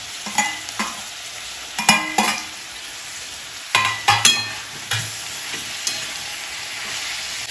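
Chopped tomatoes sizzling in a pan for paneer cheese masala, with a soft steady fry under repeated clattering spatula strokes that come in short irregular bursts, close and fairly loud, no talking.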